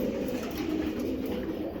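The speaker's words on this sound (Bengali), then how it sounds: "আপনাদের আমি সব কবুতর সিঙ্গেল সিঙ্গেল দেখাইলাম" Racing pigeons coo softly in a loft, a low steady murmur of several birds together at close range with no talking.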